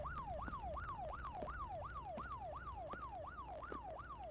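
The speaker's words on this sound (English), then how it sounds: "Is that sirens?" A wailing siren rises and falls in quick, steady yelping cycles, about two per second, loud and continuous throughout with no voices over it.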